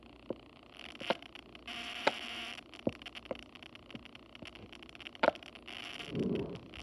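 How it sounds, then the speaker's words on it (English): A pink and blue pop-it ball fidget toy is squeezed and handled up close, giving soft scattered pops, clicks and rubbery rustles at irregular intervals in a quiet room. "So first up I have this pop-it ball"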